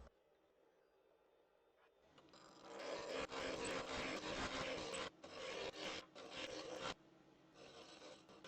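Ash blank roughed to round on a woodturning lathe, a harsh rasping scrape of the tool on uneven wood starting after a quiet moment, loud and close with brief breaks as the cut pauses.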